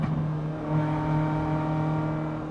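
A Corsa GSi with a naturally aspirated 1.8 16v engine revs with a steady, close, buzzing drone that rises gently and holds at high rpm, with no talking over it.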